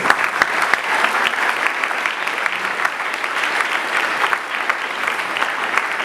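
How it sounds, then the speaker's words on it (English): Sustained, loud applause from a large audience at a school achievement day ceremony, dense continuous clapping with a few sharper individual claps, filling the hall for about six seconds. "And so your vice principal also deserves a round of applause"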